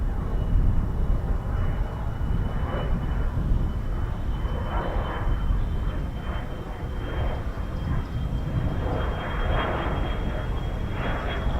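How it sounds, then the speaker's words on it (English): An Embraer aircraft passes over an RAF airfield, its steady, broad engine roar holding at a constant level from start to end with no other clear sounds. "here comes Cranwell's Embraer again"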